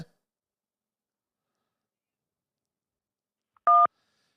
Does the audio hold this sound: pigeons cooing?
no